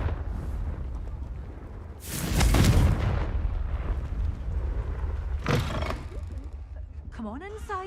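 A Confringo fire spell blast goes off in the video game Hogwarts Legacy as one loud, roaring burst that fades into a rumbling tail, with a second smaller flare later and character voices speaking nearby.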